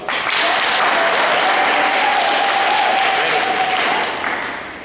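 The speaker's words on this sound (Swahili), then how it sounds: "Makofi kwangu." Loud, sustained applause from an audience at a community sensitization meeting in a Catholic church, with dense clapping swelling quickly and holding steady before tapering off, a faint whistling tone running beneath it.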